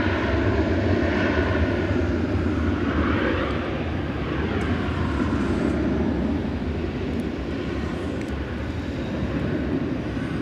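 Jet engines of an Airbus A321 airliner at Dallas Fort Worth airport roar steadily and loudly for about ten seconds, a dense, continuous rumble with a slowly shifting whine layered on top and no voices.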